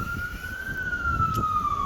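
A siren wails steadily with a single sustained tone, slowly shifting pitch, over low traffic rumble.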